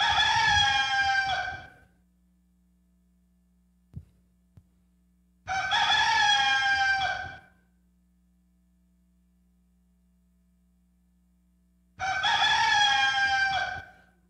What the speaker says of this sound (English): give me that rooster crow one more time